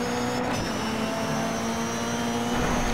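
Rally car engine in the off-road racing game DIRT 3, a loud continuous high-revving roar held steadily throughout with a dense buzzing tone.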